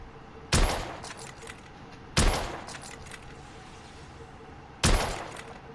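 Three loud, sharp gunshot blasts ring out from The Order: 1886 at uneven intervals. Each crack is followed by a brief rattling decay, with quiet pauses between shots.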